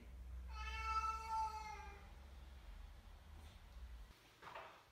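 A cat gives one drawn-out, clear meow close by, followed by faint shuffling and a soft knock in a quiet indoor space.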